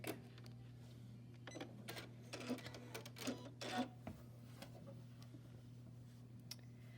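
A Janome sewing machine works satin stitches with the F foot, giving a few short bursts of rapid mechanical stitching over a steady motor hum, each burst stopping and starting as single stitches are taken.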